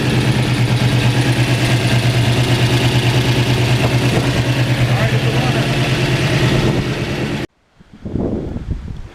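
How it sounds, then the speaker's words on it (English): A Chevy 481 engine in a 1964 Chevrolet C10 runs loudly at a steady, throbbing idle for about seven seconds, then cuts off abruptly, leaving gusty wind and a brief voice. "we got the 481 running"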